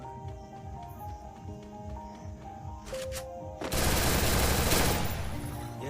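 Gunfire from the battle-royale game Garena Free Fire in a solo-versus-squad match, a dense close burst of automatic shots that swells into heavy sustained fire over game music and effects.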